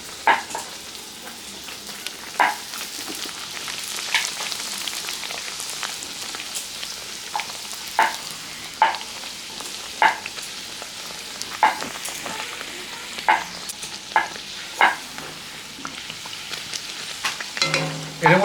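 Bhatura deep-fries in hot oil with a steady bubbling sizzle, broken by regular sharp clacks and splashes from turning and handling the dough, close and fairly loud with no talk.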